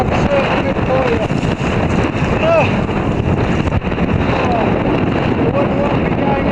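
Strong wind roars loudly and continuously across the microphone aboard a boat out on open water, with a dense buffeting rumble throughout and faint creaks or whistles cutting through.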